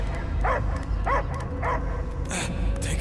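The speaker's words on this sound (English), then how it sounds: "I hear only barking." A dog in the Guardians of the Galaxy game gives three short, close, whining barks in an even rhythm, followed by a sharper yip, over a low droning background.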